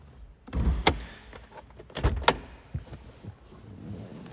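The sliding door of a 2008 Toyota Estima hybrid van is pulled open by hand, with a few sharp clunks and latch clicks over a low rumbling roll, close and fairly loud, with no talk.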